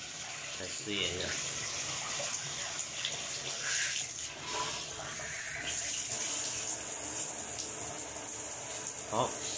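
Water from a repaired shower faucet gushes at full pressure, a steady, loud, close rush of spray that runs without a break, with some talk over it.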